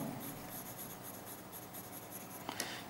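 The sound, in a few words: pencil drawing on paper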